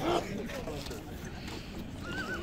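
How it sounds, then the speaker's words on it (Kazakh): A dark-coated horse at a horse sale whinnies briefly at the start, with a faint clop of hooves, while someone talks over the scene throughout. "Мына алдымда эле кара өңдөдөгү бир жылкы турат."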